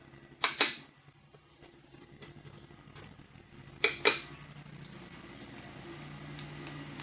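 Two sharp metallic bursts, like a tool working bolts loose on a Husqvarna HU700L lawnmower, each a short clack-and-rattle a few seconds apart, close and distinct against a quiet background hum.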